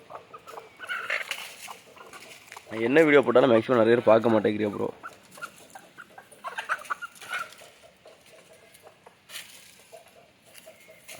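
Country chickens cluck during feeding, with a loud burst of clucking and calls from about three to five seconds. Quieter clucks and rustling continue around someone talking in Tamil.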